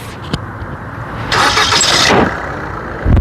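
A 2017 Maruti Suzuki Ciaz ZDI diesel car starts: a click, then a loud crank and catch lasting under a second, settling into a quieter idle, followed by a thump near the end.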